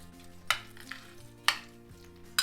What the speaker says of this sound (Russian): И теперь все это перемешаю пока ложкой.